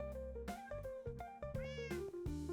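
Cats meow in Minecraft, five or six clear, tonal meows in quick succession, close and distinct with nothing else underneath.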